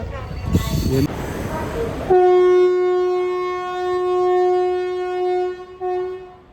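A long, loud train horn sounds in one sustained blast at a railway station, following a short stretch of station bustle and a few faint voices.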